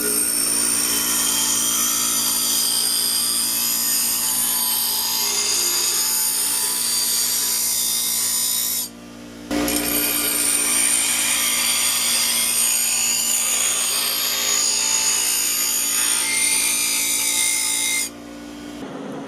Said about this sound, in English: we're just going to start to work on the bottom edges of the blades on the grinder